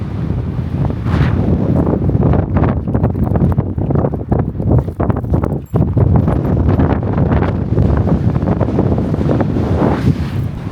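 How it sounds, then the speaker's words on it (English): Strong wind buffets the microphone on Salt Beach at the Dead Sea, a loud continuous rumbling roar with gusty surges and a brief dip midway, no voices. "Just wait for the wind to die down."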